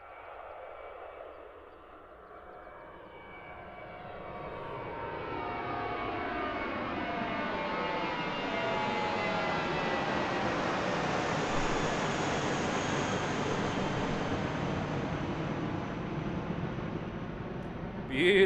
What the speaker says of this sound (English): Beautiful departure from Jetstar.